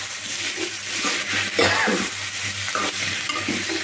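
Dal (lentils) being stirred and fried in a pot, a continuous close sizzle with repeated scraping stir strokes, loud and steady throughout.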